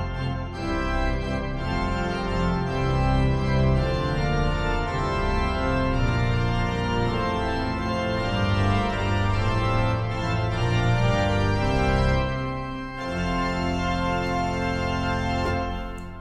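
A full, rich pipe organ, the Bückeburg sample set, plays sustained chords with many stops layered together, loud and resonant, with a short pause before the music resumes.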